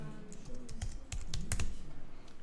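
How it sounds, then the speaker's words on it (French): Fast typing on a computer keyboard while entering text in a design program, a quick irregular run of soft key clicks at close range, quiet and without talk. "Je vais taper du texte rapidement."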